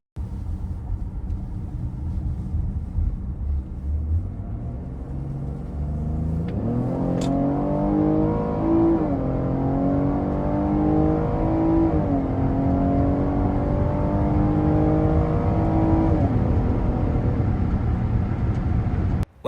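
A 2025 Cadillac XT6 Premium Luxury SUV accelerates hard toward 60 mph, engine note climbing through rising gear pulls with brief drops at upshifts, a loud steady interior drone over road rumble, no talking.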